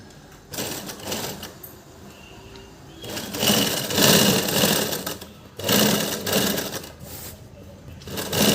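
Sewing machine stitching blouse lining, running in several bursts of rapid whirring that stop and restart between short pauses.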